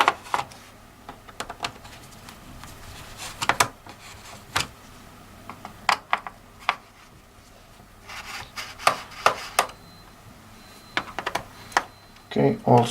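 Screws are removed from a Lenovo ThinkPad T440 laptop, heard as scattered small clicks, taps and scraping rubs of a screwdriver against the casing, close and fairly quiet.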